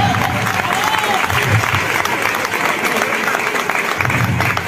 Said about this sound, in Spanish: Un aplauso para el sonido.